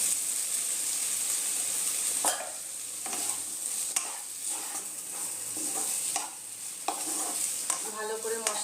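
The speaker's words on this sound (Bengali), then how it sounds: "ভালো করে মশলার সাথে ভেজে নেব।" Okra frying in a yogurt and spice masala for restaurant-style bhindi do pyaza: a steady close sizzle with repeated spatula scrapes and stirring knocks every second or so, no talking.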